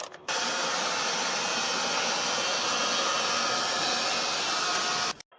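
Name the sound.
hairdryer drying surfaces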